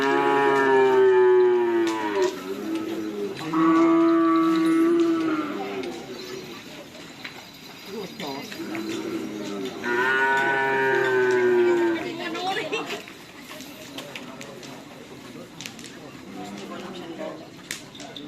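Small cows mooing at a bull-racing (karapan sapi) event, several long, drawn-out calls rising and falling, loud and close, with people chattering in the background.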